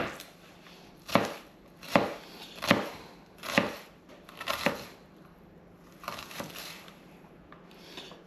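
A kitchen knife cuts through half an onion on a board while preparing a Greek salad, about eight distinct, close chops spaced unevenly a second or so apart, each a crisp thud with a short crunch, and quiet between strokes.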